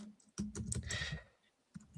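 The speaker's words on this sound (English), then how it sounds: "Sorry, I was typing it down." A computer keyboard is typed on briefly. A short, faint burst of light clicks comes close together, then a pause and a couple more taps. No one talks.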